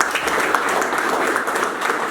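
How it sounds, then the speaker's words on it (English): Audience applause at a downtown press conference in Bettendorf, a steady dense wash of many hands clapping throughout, moderately loud and without speech. "they deserve a round of applause"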